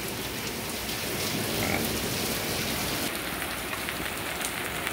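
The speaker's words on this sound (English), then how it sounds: "Now it's raining." Steady rain falls outside a garage in Florida, a dense, even hiss of drops drumming on surfaces that runs unbroken for the whole stretch with no voices.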